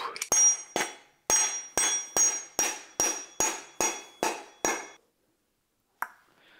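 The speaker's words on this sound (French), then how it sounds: "Tu viens visser l'étoile au bout." A star nut being hammered down into the steerer of a steel bike fork: about ten sharp metallic hammer strikes in a steady rhythm, close and loud, then a pause and one last lighter tap.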